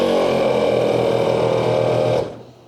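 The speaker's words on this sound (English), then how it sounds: "air compressor fires up, fills up its reservoir just like it should" A twin ARB air compressor mounted on a vehicle runs with a loud, steady motor hum and rapid mechanical buzz, then winds down and fades out near the end.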